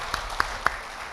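Three separate hand claps, spaced apart and fairly soft, in a quiet room during a Burkinabé entertainment show honoring young football players.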